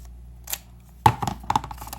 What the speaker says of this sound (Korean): 오려주신 다음에 반을 잘라주세요.